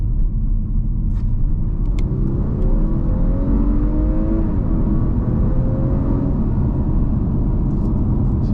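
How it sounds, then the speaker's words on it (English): A 2023 Audi A5 Sportback 45 with a 261-horsepower engine pulls hard from about 25 mph, its engine note climbing through rising revs in a loud, continuous roar with road rumble beneath, heard from inside the cabin. "very brisk acceleration for the A5 Sportback"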